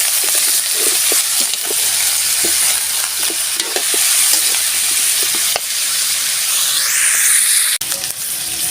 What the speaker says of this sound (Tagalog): Habang ginigisa po natin yung paa ng baka